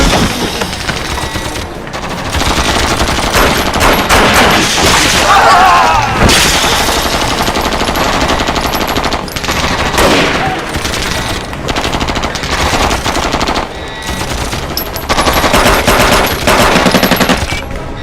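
Dense, loud bursts of rapid automatic gunfire with booming shots and clattering, continuing nearly nonstop with brief lulls, cinematic and intense, from a Hollywood action war movie dubbed in Hindi.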